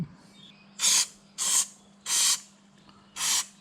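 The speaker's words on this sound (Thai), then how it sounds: "ใช้สเปรย์พ่นเข้าไปเลยครับ" Four short bursts of aerosol spray cleaner hissing into the A/C blower fan of a 2012 Isuzu D-Max, each about half a second long with short pauses between, close up.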